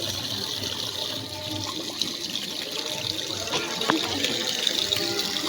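Steady running water at an outdoor tap while feet are washed before entering a Mahadev temple in a village, a continuous loud splashing flow with faint background activity.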